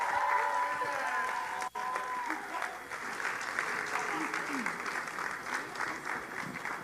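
Audience applause from a room full of people at a session on women and religion, steady and sustained, with a brief dip partway through before the clapping carries on at an even level.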